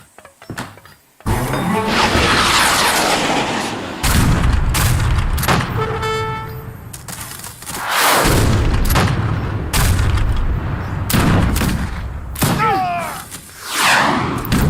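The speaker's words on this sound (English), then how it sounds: "Okay, mortars into position, siege the fort" Repeated heavy booms and blasts as mortars bombard a fort in Age of Empires 3, loud and close, with game unit noises and a short tonal signal between the explosions.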